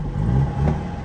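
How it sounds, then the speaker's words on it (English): A 1962 Wolseley 1500 engine runs steadily just after starting, its low, even exhaust note close and continuous, with no voices over it. "A nice exhaust tone too."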